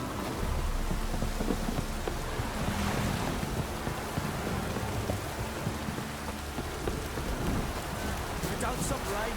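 Steady heavy rain pours throughout a storm in The Witcher 3, with low rolling thunder beneath a dense, constant hiss that stays loud and even from start to finish.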